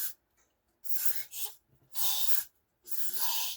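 Hair spray sprayed onto a wig from an aerosol can, three separate hissing bursts of about half a second each with short pauses between them, heard close.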